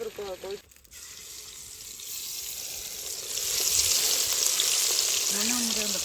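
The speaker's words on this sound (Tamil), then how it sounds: "மீன் பொறிச்சாச்சு" Steady hissing sizzle of fish frying in hot oil, outdoors, growing louder and denser, with a brief clatter and a voice at the start.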